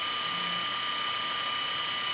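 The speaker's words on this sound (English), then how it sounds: "Whenever somebody sends me a text, it causes the shaver to activate and actually turn on." An electric shaver buzzes steadily and loudly, switched on remotely by an incoming text message near an iPhone 4, its high whine holding constant throughout.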